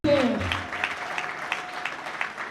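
Applause from mourners at a body-viewing funeral ceremony for a mother in Ndjili, with a brief voice at the start, then steady, moderately loud clapping with some sharper individual claps throughout.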